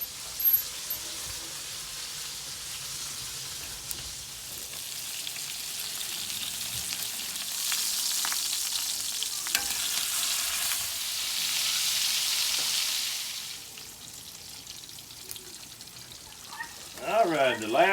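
Mangalitsa chicken fried steak fries hot in a pan, a steady close sizzle that swells louder through the middle, then eases off before a few clattering handling sounds at the end.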